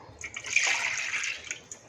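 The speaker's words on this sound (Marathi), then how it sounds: "आणि दूध घालूया" Milk streams into a pan on the stove, a close, steady liquid pour with a soft splashing hiss that runs just over a second before tapering off, with no one speaking.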